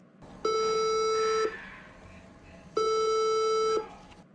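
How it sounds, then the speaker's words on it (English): Swedish emergency alert system alarm sounding two long, loud steady beeps of about a second each, separated by a short pause, with no other sound around them. "Well, what's the point if it's just going to be beeping?"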